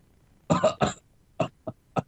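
A short burst of three quick dry coughs, followed by a few softer single coughs spaced apart, close to the microphone in an otherwise quiet room.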